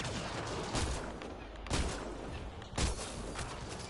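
Sniper rifles fire in the video game Mass Effect: Andromeda, with three loud cracks spaced about a second apart over a continuous bed of battle noise.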